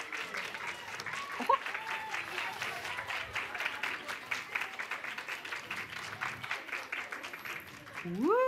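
Audience applause for the winners at a Finnish awards ceremony, KDC 2021, steady moderate clapping from a crowd throughout, with a voice speaking over it.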